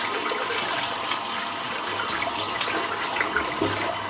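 Running tap water rinses a dense rhodium-knot shaving brush. The steady hiss and splash of the stream fills the clip, loud and continuous, with no voice.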